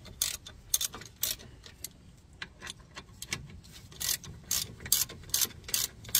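Ratchet clicking rapidly in repeated bursts while loosening a brake bolt on a Ford Mondeo Mk4 outdoors, close and clear with short pauses between strokes.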